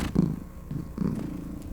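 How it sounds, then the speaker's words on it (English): A cat purrs up close in a steady, low rumbling rhythm, with several louder swells as it breathes in and out, and no one talks over it. "She's just purring up a storm."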